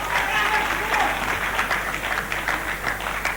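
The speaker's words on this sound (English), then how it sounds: "a round of applause from the audience as Mehmet Murat makes his way back to his feet" Audience applause at the Murat Mehmet vs Anthony Nastas fight as Mehmet gets back to his feet, a steady mass of clapping heard under a commentator's voice.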